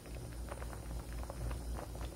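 Squid soup bubbling in a pot, a soft continuous boil with gentle low rumble and faint bubbling pops, close and steady.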